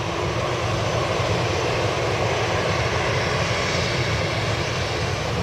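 Steady, loud roar of an Aer Lingus airliner's jet engines at Manchester Airport in the early morning, a continuous broadband rumble holding level and close throughout with no voices.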